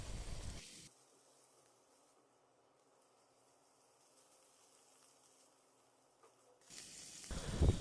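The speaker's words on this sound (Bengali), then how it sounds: "চিংড়ি মাছটাকেও আমি কিছুক্ষণ ভেজে নিব।" Prawns sizzle in a pan with onion and ginger-garlic paste for a Bengali chingri curry, a soft, steady hiss that holds for several seconds between louder handling noises at the start and end.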